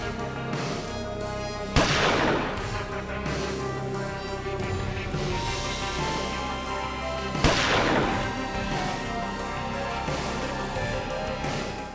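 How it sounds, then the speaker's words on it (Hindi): Two sharp gunshots in a TV drama scene ring out several seconds apart, each a loud crack with a rumbling tail, over a steady background of music and noise. "उस पर गोली चली"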